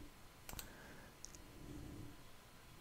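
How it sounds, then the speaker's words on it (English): A single mouse click at a computer during a Jenkins setup on a Kubernetes cluster, one sharp close tick alone against a quiet room with a faint background hum. "And you have to click next."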